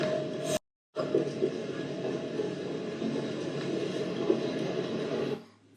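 Steady, loud rumbling ambience inside a moving train carriage, a continuous dense roar with a brief cut of silence near the start, then fading out at the end.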